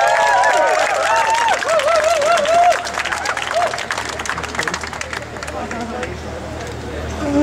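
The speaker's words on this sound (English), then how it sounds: "A warm round of applause to the witness box" A protest crowd at a legal aid cuts rally applauds a witness stepping up, steady clapping and cheering mixed with loud crowd chatter and voices throughout, easing slightly after a few seconds.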